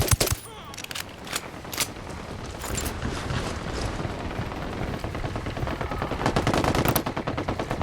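Automatic gunfire in Ghost Recon Wildlands, with rebels fighting the cartel: dense, loud bursts of rapid shots over continuous battle noise, lasting throughout.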